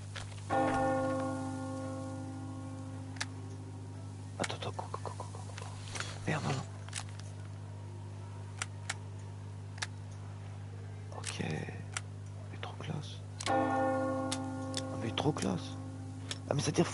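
Church bell tolling in Metro Exodus, struck several times with long ringing tails, plus a few sharp ticks, heard over a steady game drone while someone talks at moments.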